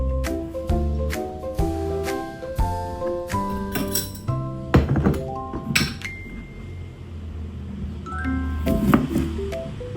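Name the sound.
putting ingredients into a glass jar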